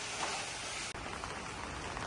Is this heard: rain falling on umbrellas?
yes